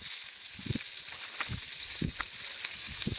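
Smoky Polish sausage fries in a pan at a forest campsite, giving a steady soft sizzle and hiss with scattered pops and crackles, close and continuous with no talk.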